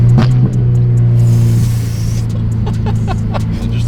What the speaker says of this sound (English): That perfect rumble